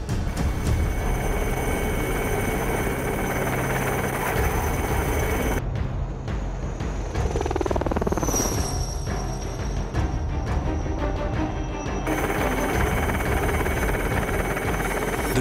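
Cheetah military helicopter in flight near the Siachen Glacier, a steady loud rotor and turbine drone running throughout, with a brief swelling whoosh midway as it passes close.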